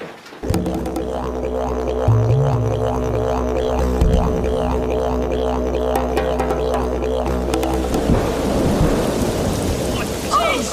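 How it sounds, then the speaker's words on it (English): Heavy rain pours steadily while a long, deep rumble of thunder rolls through it, loud and close, with no voices. "Oh, thunder hits, I don't believe it."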